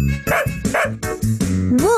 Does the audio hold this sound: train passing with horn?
no